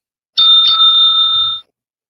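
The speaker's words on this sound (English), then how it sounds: "You ding in. Doorbell." A single bright electronic doorbell chime, loud and close, sounding two quick overlapping tones that ring on steadily for about a second before stopping cleanly into silence.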